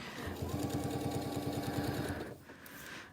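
A sewing machine stitching quilt-as-you-go blocks runs in a fast, even mechanical chatter for about two seconds, close and steady, then stops with a brief rustle of fabric.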